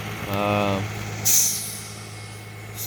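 A AAA tow truck pulls up at a two-vehicle collision scene, letting out a loud buzzing air-brake blast followed by a sharp hiss of released air, over low engine idle rumble.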